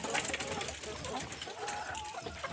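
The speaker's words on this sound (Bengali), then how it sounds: "এগুলো লেয়ার মুরগি," Layer hens kept at a home coop cluck and squawk nearby in short, busy bursts, with some faint background voices mixed in.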